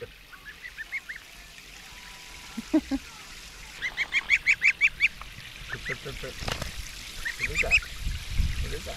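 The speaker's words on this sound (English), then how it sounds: "We got the geese out." Farm geese honk outside in a series of short nasal calls, sometimes in rapid bursts of several, moderately close, with soft outdoor rustling and scuffing between them and some indistinct voices.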